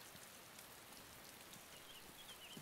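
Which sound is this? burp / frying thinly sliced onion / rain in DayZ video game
rain in DayZ video game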